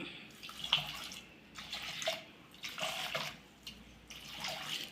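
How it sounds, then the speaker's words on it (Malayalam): Water splashes into a cooking pot of taro curry with turmeric and chili powder in several short, uneven pours, fairly quiet and close by. "ആവശ്യത്തിനുള്ള വെള്ളം കൂടി ചേർത്തിട്ട്"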